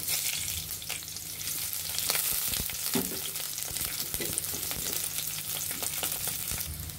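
Chopped onions with split green chillies frying in a pan for jute leaf stir-fry, a steady close sizzle with occasional stirring scrapes and clinks throughout.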